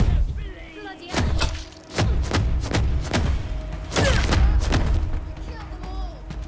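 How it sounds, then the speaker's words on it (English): Rapid, heavy gunfire in the post-nuclear-disaster video game Atomfall, set in Cumbria, as a string of loud booming thuds in quick bursts, with a voice talking over parts of it. "I'm firing! I'm shooting!"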